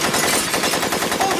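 Loud, sustained automatic gunfire rattles rapidly and continuously throughout, dense overlapping shots filling the whole stretch with no pauses.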